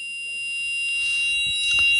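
A digital alarm clock's buzzer sounds steadily, a thin high-pitched electronic tone held throughout with faint background noise beneath it.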